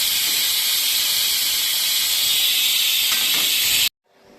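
A pressure cooker lets off its third whistle during home cooking, a loud, steady rushing hiss of escaping steam that holds for several seconds and then cuts off abruptly into near silence.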